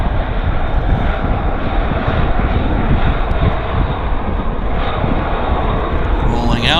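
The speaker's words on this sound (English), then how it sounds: "Our first lander, actually, a CRJ." A CRJ regional jet lands and rolls out on a wet runway, its steady broadband engine roar and spray hiss holding loud and continuous throughout, with a voice talking over it.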